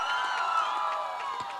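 TV show studio audience cheering and whooping in a short, loud burst of raised voices, with light clapping mixed into the crowd noise.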